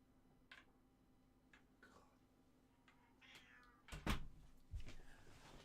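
A cat meows indoors, a few soft calls at first and then louder, closer meows near the end, heard alone without talk.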